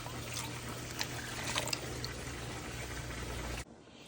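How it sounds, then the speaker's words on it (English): Hot water pours steadily into a pot of cooking kidney and pinto beans, a close, even splashing rush that stops abruptly near the end. "Tossing in some hot water."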